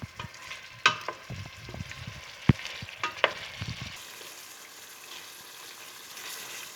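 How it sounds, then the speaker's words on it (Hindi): Tomatoes fry with spices in a pan for chicken dum biryani, a soft sizzle broken by several sharp clinks and scrapes of stirring in the first half, then a quieter, even hiss with no talking. "दो अदद टमाटर मैंने इसमें ऐड कर लिए हैं, और अब इनको भी इसके साथ फ्राई करेंगे।"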